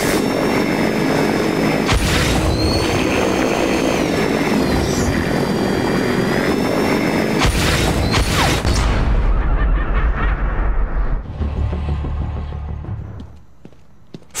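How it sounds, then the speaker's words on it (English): In a Batman Arkham game, a remote-controlled explosive blimp drones loudly like a propeller engine with sharp blasts along the way, then the noise dies down to a low rumble and fades out. "Use the RC airship bomb to directly control and fly an explosive blimp into your enemies."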